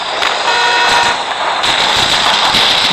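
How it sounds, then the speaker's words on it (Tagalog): Loud, continuous crackling explosion and rumble of a tank blowing up in the game Payback 2, with dense bursts of noise blending together throughout. "What yung tangke? Ang bilis sumabog ah."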